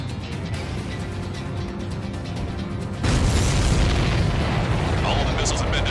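Missiles exploding in Ace Combat 7, a steady engine drone that erupts into a loud, sustained blast and crackling rumble about halfway through, with voices over it.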